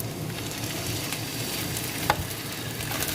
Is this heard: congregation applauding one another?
no